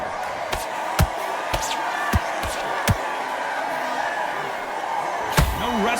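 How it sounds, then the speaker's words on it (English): Arena crowd noise from the boxing video game Undisputed, a steady broad murmur of a packed audience with several sharp punch-like impacts and a brief whoop near the end. "Crowd here cannot wait. They've been buzzing all day long"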